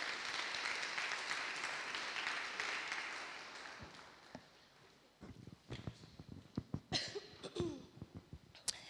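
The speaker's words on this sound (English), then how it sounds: "Give her a round of applause, please." A church congregation claps in a dense, steady round of applause that fades over about four seconds, followed by scattered knocks, shuffles and coughs in the hall.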